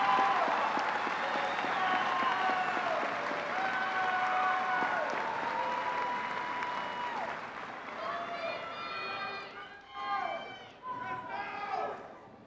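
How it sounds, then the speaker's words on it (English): Applause for graduates at a spring commencement ceremony, a long steady round of clapping from a large crowd that carries beneath overlapping voices and then thins out in the last seconds. "Let's give one more round of applause for all these graduates and the hard work that they've done."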